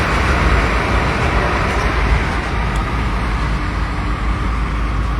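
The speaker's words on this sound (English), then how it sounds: "It's a delivery truck." Delivery truck passing on a suburban Perth street, a steady, loud broadband traffic rumble that holds for several seconds with no voices over it.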